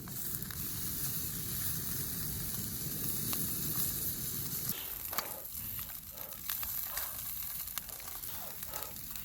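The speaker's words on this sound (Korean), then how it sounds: "소세지 구워 먹을 거." Sausages cooking over an outdoor fire, a faint steady sizzle and hiss with soft crackles, continuous throughout and heard alone without talk.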